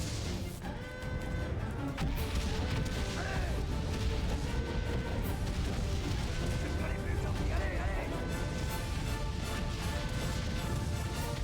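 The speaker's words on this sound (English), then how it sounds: "here is where we're starting to do a thing known as a creeping barrage" Creeping artillery barrage in the World War I game Valiant Hearts, a dense continuous rumble of shelling and crashing impacts that stays loud and steady across the whole stretch, with tonal game sounds layered over it.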